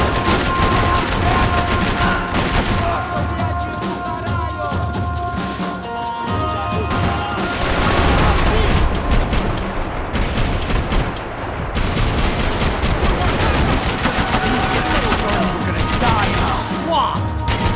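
Heavy gunfire in the shooter video game Max Payne 3, dense and loud, with continuous bursts and crashes under frantic shouting voices, holding at a steady intensity throughout.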